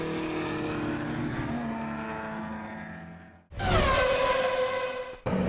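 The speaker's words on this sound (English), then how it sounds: "Over the timing line she comes to take the checkered flag then." A race car roars past the timing line at Zwartkops Raceway, its loud engine note dropping as it goes, then after a brief lull another car screams by close and loud.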